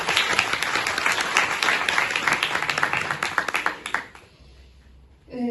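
An audience claps at the closing session of the CIIES24 conference, dense sustained applause that fades out near the end before a brief sound returns.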